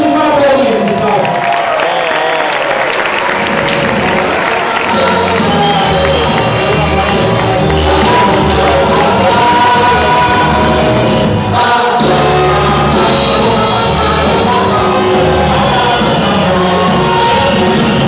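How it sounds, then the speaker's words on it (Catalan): A large carnival parade crowd in l'Espluga, 2013, applauds and cheers prize winners, a loud, sustained wall of clapping, shouts and whoops with music and voices mixed in throughout. "Per tots ells un fort aplaudiment, sisplau."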